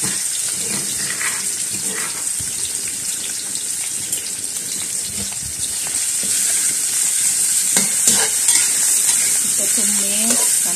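Pounded spice paste with lemongrass hits hot oil in a pan, a loud continuous sizzle with stirring scrapes throughout, growing a little fuller toward the end, no one speaking.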